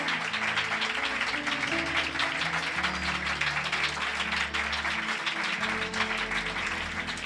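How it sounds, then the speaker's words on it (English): A church congregation claps together for Jesus during a worship service, dense sustained applause from many hands, steady and fairly loud throughout, with faint musical tones underneath. "Shall we put our hands together and give a clap offering to Jesus?"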